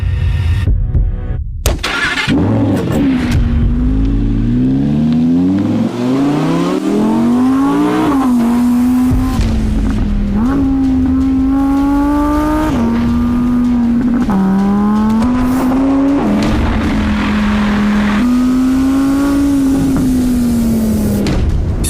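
An Audi R8 with a V10 shares its engine with a Lamborghini and drives a mountain road with quattro all-wheel drive. The engine rises and falls through repeated gear changes, loud and close throughout, with no talking.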